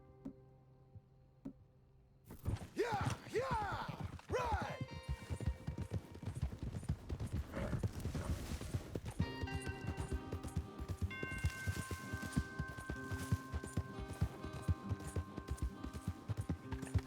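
Horses' hooves clip-clop in Red Dead Redemption 2, a steady run of hoof beats near and loud, mixed with game music and ambient sound, with a few short talk-like bursts.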